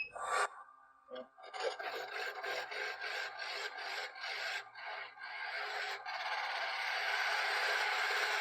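A spindle roughing gouge cuts wood spinning on a lathe, giving a loud rasping, scraping chatter in rhythmic passes that settles into a steady continuous cut near the end, with no voices.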